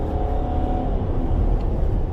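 A Mercedes E320 CDI estate with a six-cylinder diesel pulls hard on the motorway, its steady low engine drone and rumble loud and close throughout with no talk.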